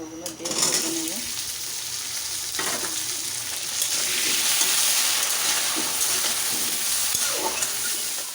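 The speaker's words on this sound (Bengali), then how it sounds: "প্রথমে আমি হচ্ছে আলুটা হলুদ লবণ দিয়ে একটু ভেজে নিচ্ছি আর কি।" Potato pieces fry with turmeric and salt in hot oil, giving a loud, continuous sizzle with occasional stirring scrapes close by.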